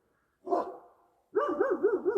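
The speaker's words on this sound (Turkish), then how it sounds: "Demek ki bunlar köpekler havlıyor ki ayıları havlıyorlar." Dogs near a garbage container on Uludağ bark at bears, one short bark followed by a longer wavering, howling bark-yelp, fairly close in an otherwise quiet night.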